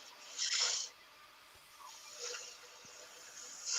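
Wood spins on a lathe as a tool peels off shavings in three separate bursts of soft scraping hiss, the first the loudest, with quiet gaps in between.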